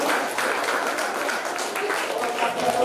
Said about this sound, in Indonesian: ya tepuk tangan dulu saya.